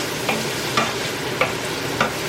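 A bay leaf is stirred into a shrimp gumbo in a pot over a soft steady simmer, with four evenly spaced light scrapes of the spoon against the pot and no voices.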